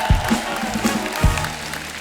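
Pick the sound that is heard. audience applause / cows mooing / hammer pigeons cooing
audience applause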